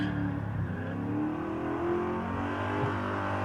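A race car at Winton circuit revs steadily nearby as the driver feathers the throttle up and down, its engine note rising and falling in a continuous mid-range drone with no pauses.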